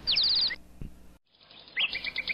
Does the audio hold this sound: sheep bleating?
no